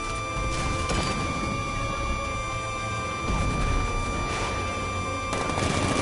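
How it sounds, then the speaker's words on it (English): Cannon fire from a tank in a Batman video game rumbles in repeated heavy blasts over steady game background noise and tonal hum, with several louder bursts across the stretch. "60mm cannon operational."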